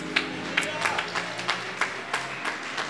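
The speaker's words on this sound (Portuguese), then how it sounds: "Você pode dar uma salva de palmas para Jesus." Congregation in a church service gives a round of clapping, scattered distinct claps over a low crowd murmur and background voice.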